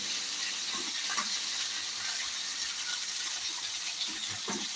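Raisins frying in ghee for a traditional pineapple and coconut payasam, giving a steady soft sizzling hiss throughout with a few faint crackles, close and even in level.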